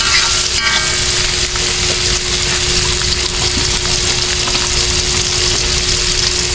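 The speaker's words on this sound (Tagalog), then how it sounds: "O, gisahin mo na yung mga lamas. So, sa Tagalog ay mga sibuyas ba." Onions sauté loudly in a pan as a dense, continuous sizzle and hiss close to the listener, with no voices over it.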